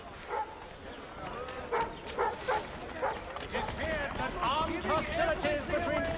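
Dogs in the video game Assassin's Creed III bark and yip repeatedly in short bursts, several overlapping, growing busier toward the end, with someone talking over them.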